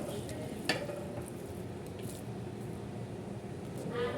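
Rice is stirred in a pot with a spoon, a soft, steady scraping and squishing close by with a gentle sizzle underneath and one sharper clink near the start.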